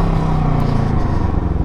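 Can-Am Ryker 600 three-wheeled motorcycle engine running while ridden, a steady close, loud motor drone with low rumble and no speech.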